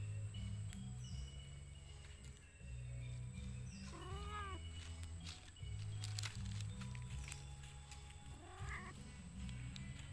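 Cats beside a pond on an evening walk give a few short meows, spaced apart over a steady outdoor hum and faint background noise.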